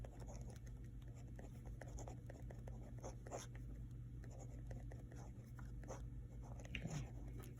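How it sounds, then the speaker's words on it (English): A pen or pencil scratching out numbers on paper during a math homework problem, steady close scribbling strokes over a low constant room hum. "Let me write down 36"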